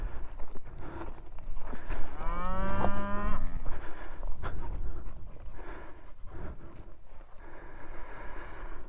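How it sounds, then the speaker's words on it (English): Cattle on open South Dakota rangeland let out one long, drawn-out moo that rises out of steady outdoor wind noise, followed by scattered low grunts and rustling. "I was curious why the cows were all coming over to me."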